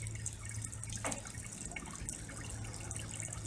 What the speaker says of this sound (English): One official water pump fountain.